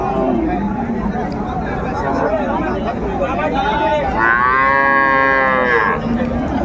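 A cow lets out a loud, drawn-out moo close by at a cattle market, amid a busy crowd chattering in the background.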